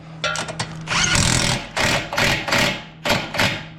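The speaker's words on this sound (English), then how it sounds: "So, use my impact to spin that through." An impact wrench spins a nut onto a rear shock bolt on a 2013-2015 Chevy Malibu, giving loud close rattling bursts in short pulses with brief gaps, no talk over it.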